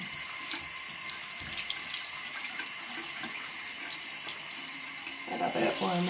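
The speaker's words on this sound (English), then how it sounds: "you want to turn the water on to a warm temperature." Warm water runs steadily from a tap, a constant broadband rush with faint clatter, growing a little louder near the end.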